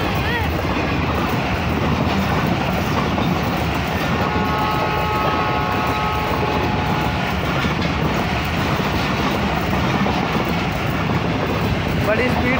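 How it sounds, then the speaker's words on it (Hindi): Pak Business Express hauled by ZCU30 locomotive 6308 rushing past at speed, a dense, steady rumble of rolling wagons with faint clattering over the rails, loud and continuous throughout, with voices audible alongside. "बड़ी स्पीड से आ रही है पाक बिजनेस एक्सप्रेस जिसकी लीड में लगा हुआ है ZCU30 6308।"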